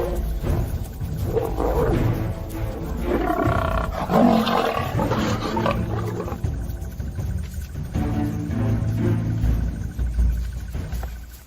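Lions in South African wild country roar loudly and repeatedly at close range, deep rumbling calls overlapping and swelling throughout with no voice over them.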